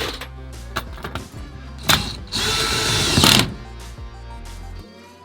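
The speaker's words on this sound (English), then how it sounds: "Now we've got to actually screw everything in." A power drill drives screws while a bed rack is mounted on a Jeep Gladiator pickup, with short whirring bursts and then a longer, louder run near the middle, close and without talk.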